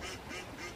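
Ducks quack faintly in a short run of about three evenly spaced calls, distant and soft.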